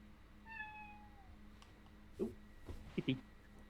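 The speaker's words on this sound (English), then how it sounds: "Kitty noises." A cat meows several times, starting with a faint drawn-out call followed by a couple of short, louder meows close by.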